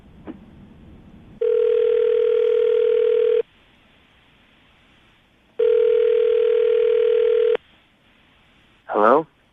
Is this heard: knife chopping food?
no